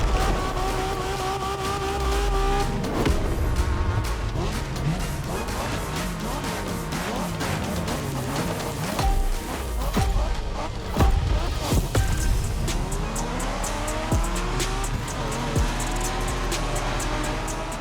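Race car driving in The Crew Motorfest, with an engine revving and shifting through gears, tires squealing and a crash or impact thump partway through. Loud and continuous, with no talking.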